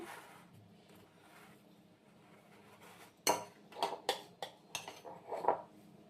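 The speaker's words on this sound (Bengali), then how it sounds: "যেটুকু ছিল উপরে একদম সুন্দর করে মিশিয়ে দিয়ে দিলাম" A spoon stirs semolina pitha batter with date molasses in a bowl, soft scraping at first, then a run of sharp clinks and knocks against the bowl.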